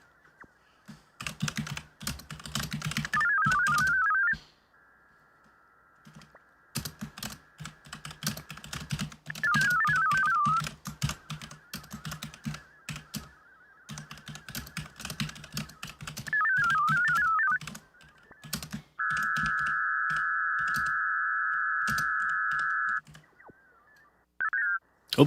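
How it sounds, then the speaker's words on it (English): Keyboard typing at a computer running the VarAC HF digital mode software, in short bursts of close, quiet key clicks broken by pauses, alongside steady electronic tones from the digital radio signal. "Oops, I can't type."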